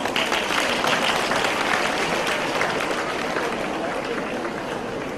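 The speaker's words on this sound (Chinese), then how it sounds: "让我们掌声欢迎" Audience applause in a hall at a spiritual testimony gathering, a dense steady wash of clapping that fills the whole clip and slowly fades slightly toward the end.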